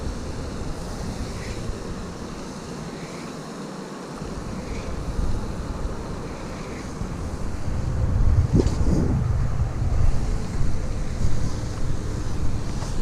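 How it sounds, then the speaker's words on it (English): Wind blows steadily across a pond bank, rushing and buffeting the microphone with a low roar that swells louder toward the end. "I'm going to be facing right into the wind"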